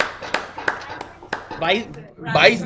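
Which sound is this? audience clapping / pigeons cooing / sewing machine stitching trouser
audience clapping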